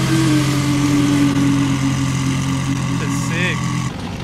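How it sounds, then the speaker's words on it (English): A twin turbo Audi R8 idles nearby at night, its steady low engine drone continuous and loud, with a brief higher chirp near the end before the sound drops slightly. "That thing sound crazy. Damn, is that a twin turbo R8?"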